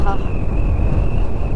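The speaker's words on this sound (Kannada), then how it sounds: "ತಂಪಾಗಿ ಗಾಳಿ ಬೀಸ್ತಾ ಇದೆ" Wind rushes heavily over a motorcyclist's microphone during a ride, making a loud, steady low roar that fills the whole moment.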